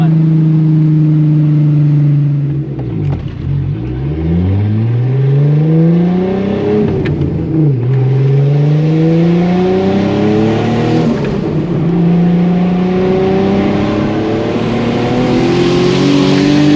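A Volkswagen Corrado with a tight, low-slung setup drives and accelerates, its engine note rising through the gears with several upshifts, loud and close from inside the cabin.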